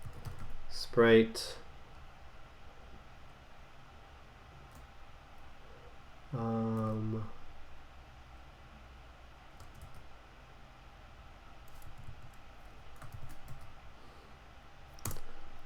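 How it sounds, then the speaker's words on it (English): Short bursts of typing on a computer keyboard while writing game code, two quick clattering runs of keystrokes separated by quiet, with someone talking in between. "I need to type these out"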